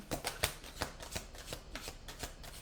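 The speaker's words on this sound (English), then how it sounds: "It's the problem when they make these cards so big, like to shuffle that way" Large tarot-style reading cards riffle-shuffled repeatedly in quick bursts, a crisp rhythmic flutter close by, with no voices.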